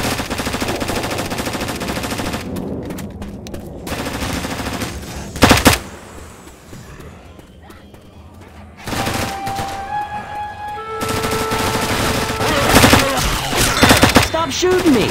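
Gunfire from the video game Diescraper Redux comes in dense rapid bursts with a sharp loud crack in the middle and a quieter lull before the shooting resumes. Game effects and occasional voices mix in.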